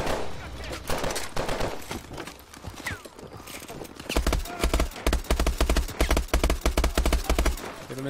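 Bursts of gunfire in a Call of Duty video game, with scattered shots early and then a loud rapid rhythmic volley of shots in the second half, while other game noise continues underneath.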